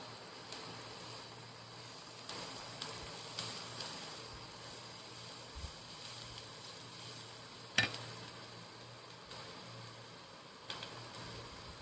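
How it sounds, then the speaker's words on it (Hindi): Three kinds of capsicum sauté in a pan with basil and parsley, giving a soft, steady sizzle and hiss with occasional light stirring scrapes and one sharper clink, faint and without speech. "तो ये मैंने तीनों तरह का कैप्सिकम इसमें डाल दिया है। अभी उसको जस्ट थोड़ा सा सॉटे करेंगे हम लोग"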